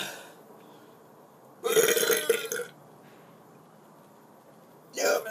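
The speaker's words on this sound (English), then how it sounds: "Now I'm going to try to do the loudest burps I can do." A person deliberately forces loud burps, two separate rough guttural eructations, the first longer and about a second in duration, the second shorter, each standing alone against a quiet room.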